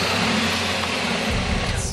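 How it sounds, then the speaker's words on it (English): An old car with a 2-cylinder aluminum engine runs steadily, a loud, close, buzzing drone that shifts to a rougher, lower chug partway through, with no speech. "The 2-cylinder aluminum engine makes for a zippy ride that feels like a cross between my '96 Honda Civic and a lawnmower"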